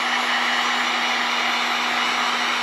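A hair dryer blows steadily and close, a constant whooshing hum with a faint tonal whine, drying alcohol on a NOSO patch.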